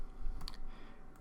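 Brief clicks of keys being typed on a computer keyboard while entering Java code, a short cluster of light taps over a low room hum.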